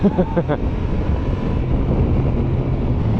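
Wind roaring over a rider's helmet at highway speed on a Honda XL750 Transalp motorcycle, a loud, steady broadband rush that buffets slightly at the start.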